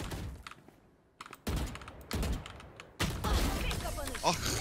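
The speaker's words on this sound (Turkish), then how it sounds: "Klavye sesim geliyor." Rapid clattering keystrokes on a computer keyboard come through a gamer's microphone during a Valorant match, dense bursts of typing mixed with game sounds and rising and falling in level.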